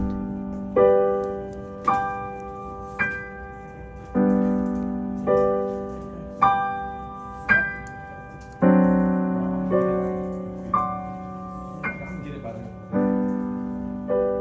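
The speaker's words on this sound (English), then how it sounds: "So every time you play a new chord, you change the pedal." Piano chords are struck one after another at a slow, even pace, with the sustain pedal changed at each new chord so each chord rings and fades cleanly before the next, solo and fairly soft.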